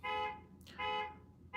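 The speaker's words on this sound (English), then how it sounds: "You may hear a car alarm going outside here." A car alarm sounds outside a downtown apartment, a loud repeating electronic tone in two long bursts with a brief gap between, heard alone without talk.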